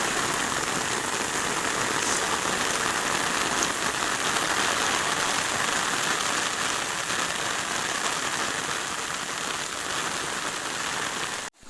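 Heavy rain pours steadily on a farm, a dense, loud hiss of drops on surfaces that holds constant throughout before cutting off abruptly at the end.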